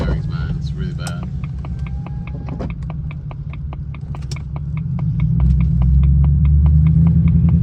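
A Jaguar XJR with worn wheel bearings rolls along the road, giving a steady low rumble with a rapid ticking rhythm above it that grows louder toward the end.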